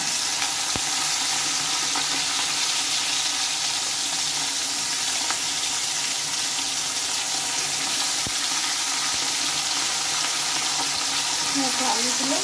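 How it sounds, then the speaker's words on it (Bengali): Salted potato pieces fry in hot oil in a pan, a steady close sizzle and hiss with occasional clicks from stirring throughout. "আলুগুলো যখন তেলের উপরে দিয়েছিলাম একটু নেড়ে চেড়ে নিয়েছি"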